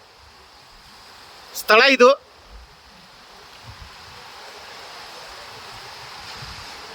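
Sea surf sloshing against the rocky coastal chasm of Jatayu Teerth at Gokarna, heard as a steady wash of water and wind noise, briefly interrupted by a short spoken phrase near the start.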